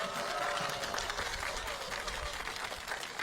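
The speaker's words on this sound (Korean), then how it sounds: "두 분께 다시 한번 큰 박수 부탁드립니다." An audience at an AI policy talk event in Korea applauds, a fairly soft, distant wash of clapping that stays level through the short clip with a low rumble beneath.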